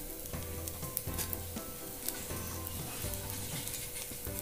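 Masala dosa batter poured from a full ladle sizzles on a hot griddle, a steady close crackling hiss with faint scraping and clinks, no voices.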